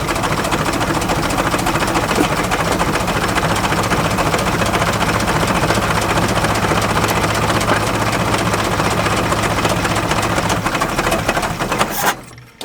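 A 1980s Yale/Eaton forklift engine runs at a steady idle, a loud continuous mechanical drone with faint chattering that goes on for about eleven seconds before cutting off abruptly.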